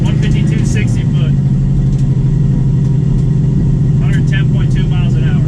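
Turbocharged small-block Ford drag car pulling hard down a drag strip on a pass, a loud steady engine roar throughout with higher-pitched tones rising over it, and voices talking now and then.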